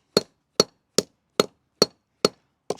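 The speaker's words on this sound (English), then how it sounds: "I'm going to hammer on these 3 bigger ones a little more." A hammer flattens small gold dental caps taken from scrap jewelry, striking in a steady rhythm of seven sharp metallic taps about every half second, close and clear with silence between.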